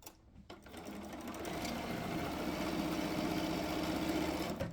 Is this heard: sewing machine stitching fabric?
yes